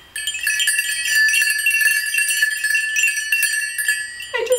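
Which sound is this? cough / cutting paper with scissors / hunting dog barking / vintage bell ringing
vintage bell ringing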